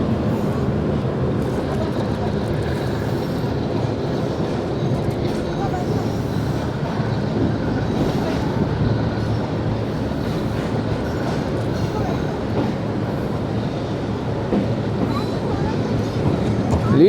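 A passenger train, the Allama Iqbal Express, runs on rails as it slows at the outer signal on approach, giving a steady loud rumble and rattle throughout with a faint clatter of the wheels.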